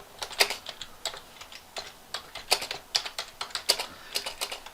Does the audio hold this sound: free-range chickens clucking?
no